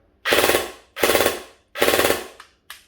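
An EMG x Ares Keltec RDB17 airsoft electric gun fires full auto in three rapid, loud buzzing bursts, each about half a second, followed by two brief single shots, close and with no speech.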